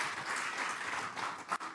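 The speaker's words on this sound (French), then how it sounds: "Applaudissons le Seigneur de ce qu'elle change." A church congregation applauds at a sermon, giving a sustained round of clapping from many hands without a break.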